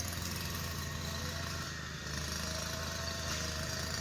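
A grass cutting machine engine running steadily at a distance while clearing an orchard, a constant droning buzz with no pauses.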